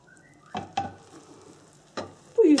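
Leek kaygana, a Turkish omelette, fries in a little oil in a pan, heard as quiet sizzling broken by a few distinct clinks and scrapes of the pan and utensil, with a louder scrape at the end.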